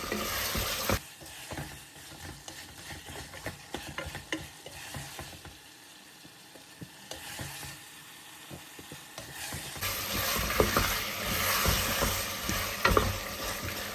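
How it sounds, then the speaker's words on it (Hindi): Potatoes frying and being stirred in a pan with spices, a steady sizzle running throughout with scraping strokes, growing louder and brighter toward the end, no voices. "और अभी मैं इनको तकरीबन भून रही हूँ थोड़ी देर तक"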